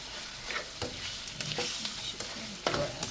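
Chicken breast sautéed with onion and garlic for chopsuey sizzles gently in a pan, punctuated by several sharp scrapes and stirs of a utensil, moderately close and without talk.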